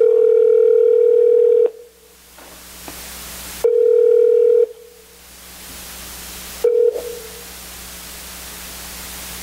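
A telephone line tone plays while a call is placed during a church youth radio broadcast. Loud, steady tone bursts are separated by quieter hissing pauses, with a brief final beep and no talking.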